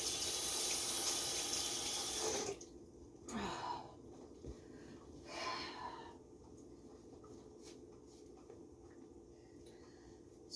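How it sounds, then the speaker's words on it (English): Tap water runs loudly into a kitchen sink while dirt is washed off hands, then cuts off, leaving faint splashes, rubbing and breathy handling noises. "Washing the dirt off our hands"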